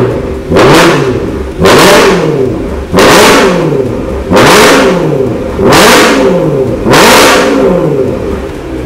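A BMW X5 engine revving through a titanium Power Craft exhaust, six loud, close blips in a steady rhythm, each rising sharply and falling back to idle between pulses.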